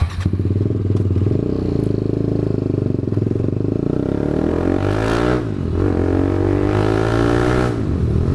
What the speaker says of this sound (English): This exhaust is really loud.